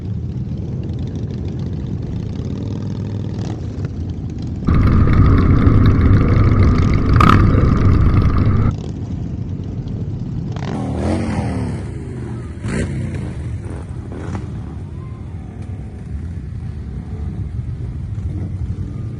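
Motorcycle engines rumble and rev loudly at a rally for the Distinguished Gentleman's Ride in Leeds, with a sustained louder revving stretch early on and bikes pulling away afterward, close and continuous.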